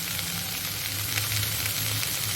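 Dry coriander and spices frying in a hot pan for a beans and chickpeas dish, a dense continuous sizzle and crackle, close and steady throughout with no talking.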